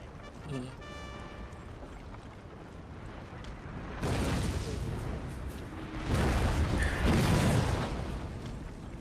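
Howitzer artillery fire in Total War: Napoleon thunders in heavy, rumbling bursts with broad booming blasts, loud and layered over the battlefield din, while voices talk over the action.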